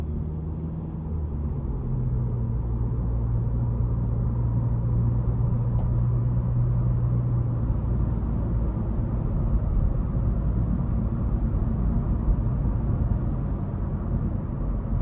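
Steady, muted low road and engine rumble inside the cabin of a 2022 Honda Civic Sport 2.0 sedan cruising in economy mode; a soft, even drone with no voices.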